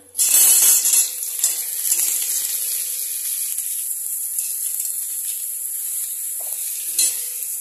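Chopped bottle gourd hits a hot pan and bursts into a loud sizzle that quickly settles into a steady, softer frying hiss with faint stirring scrapes.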